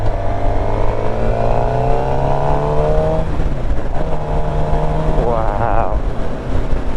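A 2016 Suzuki GSX-R750 L6 sport motorcycle cruises on the road with a steady, moderately loud engine drone and wind rush, its pitch rising in two short revving sweeps as it is ridden.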